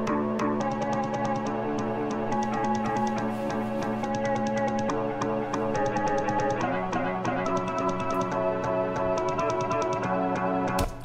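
A melodic sample for a Dom Corleo and 16teen style type beat, sliced into rhythmic stutters by a Shaperbox preset and finished with reverb and EQ, plays as a dense, steady loop with repeated choppy cuts and no voices.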